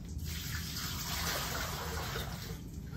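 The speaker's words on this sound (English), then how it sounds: "I'm gonna dump it in the sink." Water poured out of a container into a sink during catheter care, a steady splashing gush lasting the whole moment, close and fairly loud with no talk over it.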